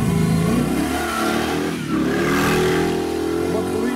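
A powerful Cobra sports car engine roars close by at a historic hill climb, revving hard and climbing in pitch with a brief dip partway through, loud and continuous.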